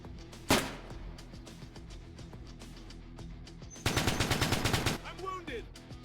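Gunfire in the tactical shooter Future War Tactics, soldiers fighting an alien invasion: a single loud shot, then a steady background hum, then a dense rapid automatic burst lasting about a second, with faint chatter around it.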